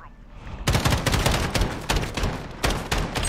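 Dense, loud gunfire from a Modern Warfare video game match, rapid overlapping shots in continuous bursts with brief pauses, close and punchy, with a hint of voice underneath.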